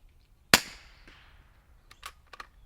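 A single sharp report from a .22 rifle fitted with an SD Tactical Arms M22 suppressor, a crisp close crack with a short decaying tail, followed by a few faint clicks and handling noises.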